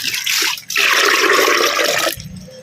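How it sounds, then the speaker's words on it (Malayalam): Plain water poured from a cup into a small container, a steady close-up splashing pour lasting about a second and a half, with a short earlier trickle and the flow cutting off abruptly at the end. "ഒരു ചെറിയ ഇതിനകത്തേക്ക് 2 കപ്പ്"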